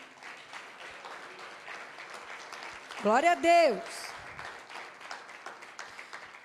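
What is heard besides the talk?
applause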